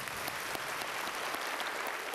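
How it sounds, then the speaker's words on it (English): Standing ovation from a whole school gathered in a gymnasium for a surprise thank-you, continuous dense clapping at a fairly soft, even level with no clear voices. "Let's please all stand and give her a round of applause."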